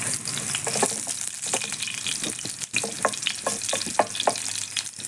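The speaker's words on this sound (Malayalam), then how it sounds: "ചതച്ചത് നമുക്ക് ഈ എണ്ണയിലേക്ക് ഇട്ട് കൊടുക്കാം ചെറുതായിട്ടൊന്ന് മൂത്ത് വരട്ടെ" Crushed unpeeled garlic frying in hot oil for a Kerala-style mezhukkupuratti, a steady close sizzle with scattered pops and crackles and a few stirring clicks, with no voices.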